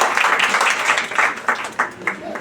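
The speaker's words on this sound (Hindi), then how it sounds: "नए साल में एक जोरदार तालियां बजानी" At a church new year gathering the audience claps together, a brief burst of loud applause whose rhythm grows looser as it fades, with a voice heard over the clapping.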